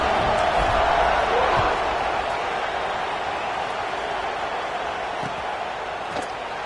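Dense, steady roar of a large football stadium crowd before kickoff at a Nebraska versus Clemson game, loud and continuous throughout with faint distant shouts and a few claps.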